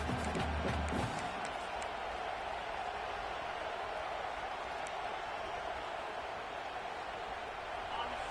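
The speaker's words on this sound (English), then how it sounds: "Crowd behind this defense on fourth down." Football stadium crowd at an Oklahoma State vs Indiana game, roaring steadily behind the defense on fourth down: a dense, sustained wash of cheering with a louder burst at the start, heard from within the stands.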